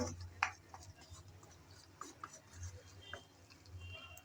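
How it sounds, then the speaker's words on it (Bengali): Chicken fry is stirred in an uncovered pan with a spatula. The scraping and rubbing strokes are soft and irregular over a low background hum, with a few brief clicks. "ঢাকনা ছাড়াই এভাবে নেড়ে চেড়ে মিশাতে মিশাতে আজকের এই মজার রেসিপিটা রেডি করে নেব।"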